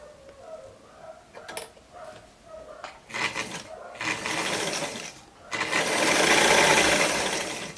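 A sewing machine stitches fabric in a home sewing setting, starting with short hesitant bursts, then running in longer, louder continuous stretches that build to a steady close whir.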